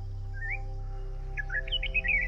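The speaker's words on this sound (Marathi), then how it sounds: "yellow broad Bulbul," A yellow-browed bulbul calls at a forest waterhole in Kolhapur, giving a few clear chirping notes close by over a low steady hum.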